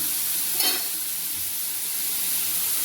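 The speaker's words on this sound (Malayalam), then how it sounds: "വെളിച്ചെണ്ണ ചൂടായ ശേഷമാണ് സവാളയും ക്യാരറ്റും ഒരുമിച്ച് ഇട്ടത് എന്നിട്ടൊന്ന് വാടാൻ വേണ്ടി വെക്കുകയാണ്" Onion and carrot fry in hot coconut oil, a steady soft sizzle with one brief stirring scrape, close by and without talk.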